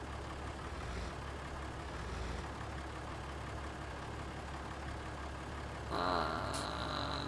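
A tractor engine in Farming Simulator 19 runs at a steady, even drone for several seconds, with a brief brighter mechanical whine rising near the end.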